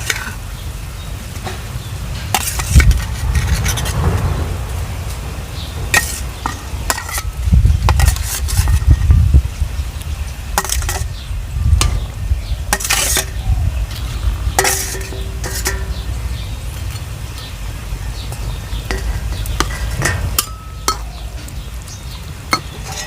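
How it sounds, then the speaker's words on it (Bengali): Fish pieces frying in a pan for Bengali begun macher jhol, a fish curry with eggplant: a steady close sizzle with repeated scraping and clinking of a spatula against the pan. "এখন এর ভিতরে দিয়ে দেবো আমি মাছগুলো।"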